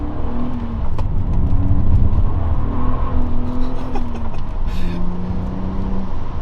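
A 6-speed BMW E87 5-door hatchback's engine drones steadily with shifting revs and road noise, heard from inside or close to the moving car.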